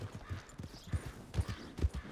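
Hooves of a horse ridden in the Red Dead Redemption 2 video game clip-clop in a steady trotting rhythm, close and moderately quiet, alone without talk.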